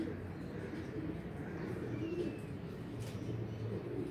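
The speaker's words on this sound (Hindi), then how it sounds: "ये हैं जी कबूतर माशाल्लाह।" Pigeons coo softly in low, rolling calls amid a noisy outdoor background, with a faint voice now and then.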